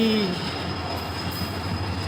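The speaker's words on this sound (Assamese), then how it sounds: "এই যে ট্ৰেইন আহিছে খালী ট্ৰেইন" An empty train rumbles steadily nearby, a continuous low roar of wheels on rails with a brief squeal at the start.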